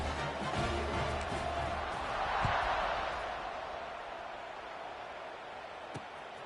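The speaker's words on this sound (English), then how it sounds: "this crowd is buzzing after that last score" Stadium crowd at a football game keeps up a steady roaring murmur with a swell near the middle, heard from a distance as a broad wash of noise with a few faint thumps.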